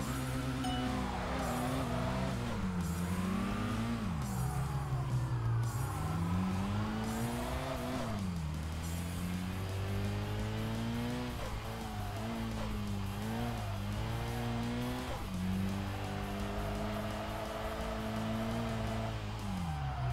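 A Honda Fit driven in the racing game Tokyo Xtreme Racer Drift 2: a loud, continuous engine note rises and falls in pitch through repeated revs and gear changes, with no pauses.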